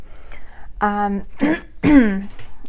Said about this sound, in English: I do apologize in advance for the clearing of my throat or any coughing or anything